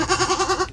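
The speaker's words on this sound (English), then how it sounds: "And there's a goat. You made a goat." A single goat bleats up close, a loud wavering cry pulsing rapidly through under a second.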